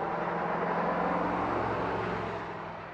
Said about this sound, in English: Sorry for all the traffic noise.